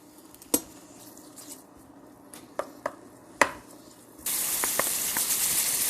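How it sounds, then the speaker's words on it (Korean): Bacon in olive oil in a pan sets off a steady loud sizzle partway through, after a few sharp clinks and taps of utensils against the pan. "베이컨을 먼저 넣어, 주세요 그리고 베이컨을 볶아주는 거예요."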